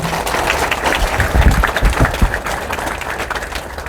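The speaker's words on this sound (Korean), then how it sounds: "이때는 박수를 쳐주셔도 좋겠습니다" A seated audience at a Korean lawmaker's constituency report meeting bursts into applause, a thick, uneven patter of clapping with louder surges in the middle before easing off slightly.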